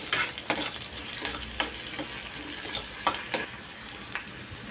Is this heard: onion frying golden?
yes